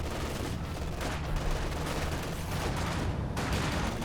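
An Axis sector artillery barrage in Company of Heroes 2 during a 2v2 match: a dense, continuous roar of shelling and gunfire with overlapping blasts, loud and sustained throughout.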